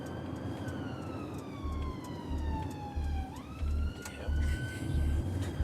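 A police car siren wails steadily and fairly loud, its pitch sliding down and then jumping back up midway, with a low rhythmic thumping and vehicle rumble underneath and a voice briefly audible.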